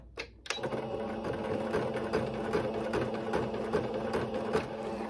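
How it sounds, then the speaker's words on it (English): A sewing machine runs steadily, stitching a straight channel for elastic on ruffle tutu socks, starting with a brief pause then a continuous close, even mechanical whir throughout. "we're going to sew that straight line"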